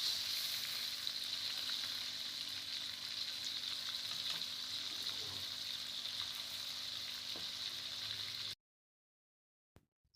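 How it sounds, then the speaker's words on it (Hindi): Fish pieces frying in ghee for a Lahori masala fish fry make a steady, hissing sizzle with faint crackles, close and even for about eight seconds before dropping abruptly to silence. "इसी तरीके से हम मज़ीद तमाम पीसीस को हाफ फ्राई कर लेंगे।"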